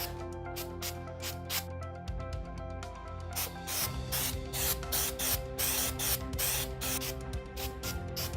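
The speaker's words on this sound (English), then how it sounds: "applying the stone spray is as simple as that" Stone-effect spray paint hissing from a can in a series of short and longer bursts, close and steady, with brief pauses between sprays.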